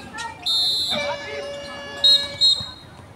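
A basketball shot clock violation buzzer sounds during a game, a loud sustained electronic tone followed by two short sharp blasts, over crowd hubbub in an indoor gym.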